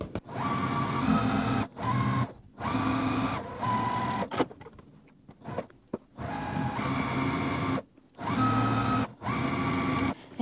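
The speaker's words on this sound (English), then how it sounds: "we're gonna take this to our machine and just sew down both sides using a 1/4 inch seam allowance" A sewing machine stitches quarter-inch seams down the sides of a quilted pillow, sounding as several loud, close bursts of rapid whirring separated by brief pauses and quieter handling.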